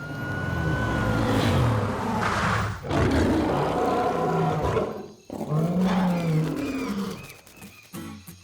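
Cartoon lions, tigers, cheetahs and jaguars roar together in a loud, sustained chorus that fills the whole stretch, with a brief dip near the middle before the roaring surges again.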